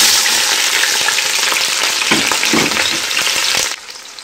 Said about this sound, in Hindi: अब हमारा ऑयल अच्छी तरह गर्म हो गया है, अब हम इसमें अनियन डालेंगे